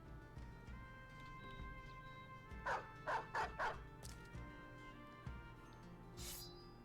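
War dogs in the Battle Brothers video game bark in a quick run of four sharp, mid-level yelps amid low game ambience and clatter, with a faint extra yip afterward.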